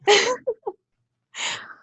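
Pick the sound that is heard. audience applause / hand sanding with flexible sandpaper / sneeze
sneeze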